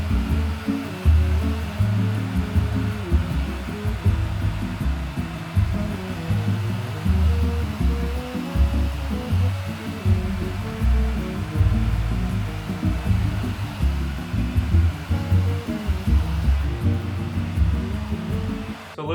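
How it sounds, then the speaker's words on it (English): A blow dryer runs continuously while styling a man's wavy hair, a loud steady whooshing hum close by, pulsing slightly as the airflow moves, with no talking. "take this blow dryer right here and kind of blow dry my hair up into the direction where I want"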